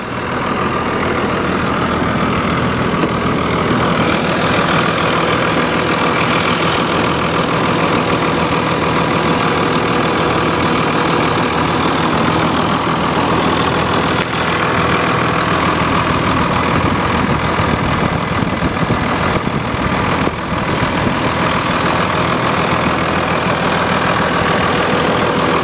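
A 2002 Dodge Ram 3500 dually diesel idling while warming up, a loud, steady, close rumble with a constant low throb and clattery texture, unbroken for nearly half a minute with no talking.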